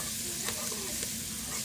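Sliced garlic sizzles steadily as it fries in a pan over lowered heat for pasta, a continuous close crackle with a few stirring scrapes and no talking.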